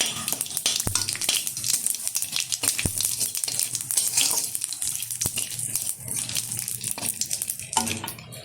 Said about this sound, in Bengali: দিয়ে দিচ্ছি এই তেলের মধ্যে দুটো তেজপাতা, কিছুটা গোটা জিরে। ভালোভাবে ফোড়নটা ভেজে নেব।